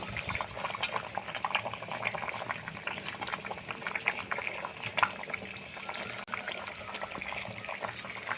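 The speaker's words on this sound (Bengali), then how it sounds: "তো ঝোলটা ফুটে উঠেছে" Fish curry gravy with potato and kohlrabi bubbles in a pot, a low, busy simmer of small pops and hisses with occasional sharper bursts, continuous and fairly quiet.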